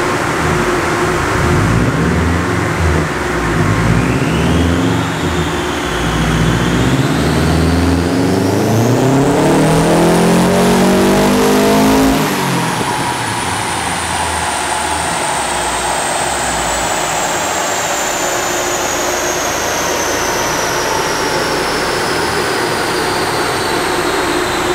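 A tuned Subaru engine roars on a dyno, revs climbing steadily under load for about twelve seconds as ignition timing is pushed until detonation knock, then dropping off into a long loud whine and rumble as it winds down.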